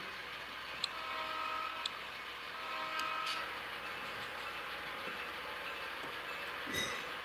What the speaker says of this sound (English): I'll get the train moving again